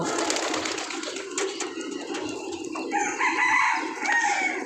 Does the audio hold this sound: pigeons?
yes